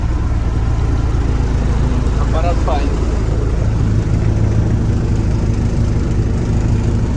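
A cold MTZ tractor diesel idles without load, a steady low rumble running throughout, with a person speaking over it.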